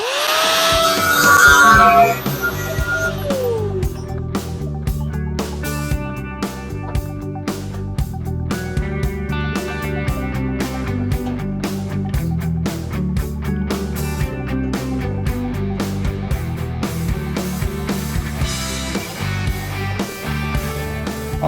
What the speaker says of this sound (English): So let me go get my grinder, and we'll give it a little slice.